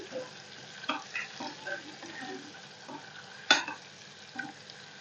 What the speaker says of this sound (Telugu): ఈ గుడ్లని ఈ విధంగా కొంచెం ఫ్రై చేసుకోవాలండి.